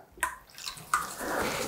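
Olive and castor oil being poured from a jug while making hot process soap, a short trickling, liquid sound with a couple of soft splashy onsets, close and fairly quiet.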